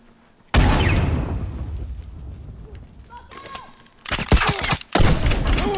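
A grenade blast in The Last of Us multiplayer, one sudden loud boom with a long rumbling decay, followed later by a clatter of rapid gunfire and impacts, with a voice talking over it.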